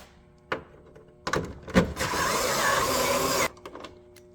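A power tool whirs close by for about a second and a half while removing the 8mm bolts from a 2014 Chevrolet Cruze tail light, framed by a few sharp clicks and knocks.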